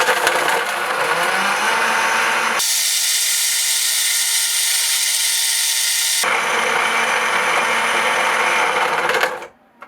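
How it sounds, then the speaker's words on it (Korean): A Bianco di Puro blender with a short-blade container crushes 300 g of ice, roaring loud and continuous at high speed, shifting pitch as the load changes, then cutting off abruptly near the end. "먼저 짧은 칼날 컨테이너에 얼음을 300g 넣고 갈아보도록 하겠습니다"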